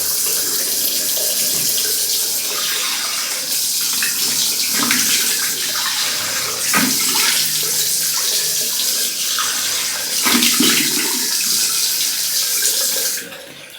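Running tap water at a bathroom sink with hands splashing water onto a face, a steady close hiss of the faucet broken by several wetter splashes, no talking.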